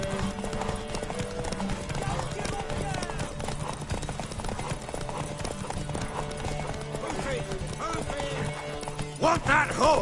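Horse hooves clip-clop steadily with occasional neighing in the video game Witcher 3, under continuous music and a speaking voice throughout.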